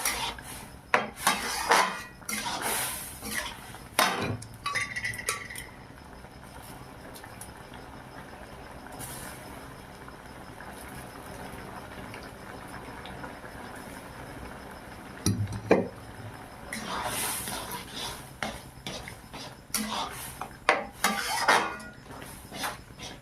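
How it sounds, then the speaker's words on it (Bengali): A spoon stirs boiled vegetables and lentils for vegetable dal in a pan, giving intermittent bursts of metallic scraping and clinks separated by quieter pauses. "এইভাবে কিছুক্ষণ নেড়ে চেড়ে একইভাবে কষিয়ে নেব"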